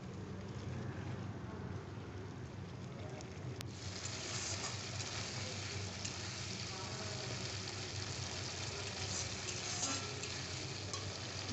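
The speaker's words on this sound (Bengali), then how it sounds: "এবারে সব মশলাগুলো আমি ভালোভাবে কষে নেব" Ginger-garlic paste and spices frying with a splash of water in a pan for a chicken and potato curry. A steady, moderate sizzle runs throughout with soft stirring scrapes and a single sharp click near the start.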